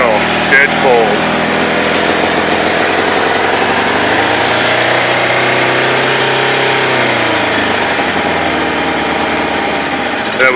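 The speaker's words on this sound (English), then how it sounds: "You can't ask for a bike to start up better than that." A 1986 Kawasaki Ninja 1000R superbike engine started dead cold and running, a loud steady idle with revs dipping and rising midway, with a voice speaking over it.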